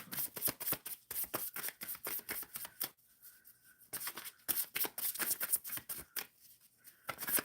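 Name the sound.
tarot cards being shuffled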